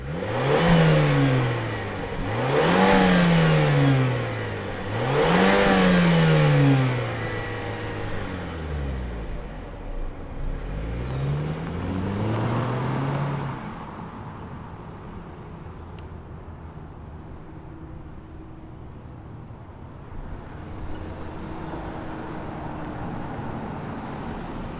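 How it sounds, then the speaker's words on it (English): A 2024 Mazda CX-30 Turbo engine revved three times in quick succession, each rev rising and falling, then a longer rev dropping back to a quiet, steady idle. "let's fire it up and see this Mazda zoom zoom"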